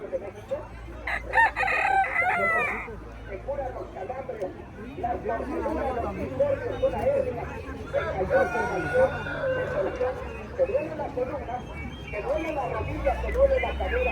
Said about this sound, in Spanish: Él vende gallinas, ¿no? Japonesas ahí también.